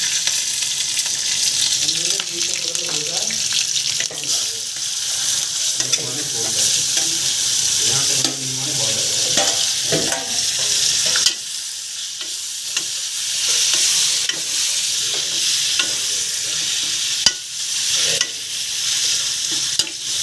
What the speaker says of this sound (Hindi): तो लौकी में जो तड़का लगाया हमने और हल्की आंच पे धीरे धीरे इसका पानी जला देंगे